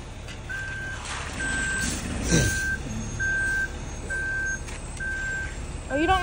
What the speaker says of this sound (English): It has to beep to back up.